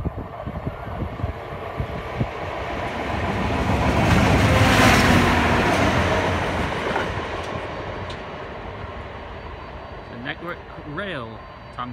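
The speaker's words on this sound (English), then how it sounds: "We got a another locomotive passing. Looks like it's a Tamper." Network Rail 80211 Stoneblower tamper train passing through Exeter St Thomas station, swelling into a loud rumbling roar with clattering wheels, then fading as faint squeals drift in near the end.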